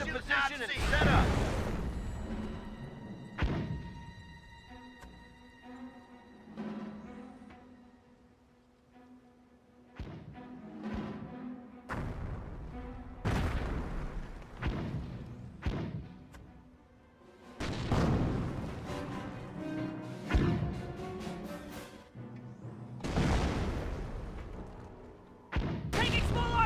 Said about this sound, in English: Taking small arm fire here!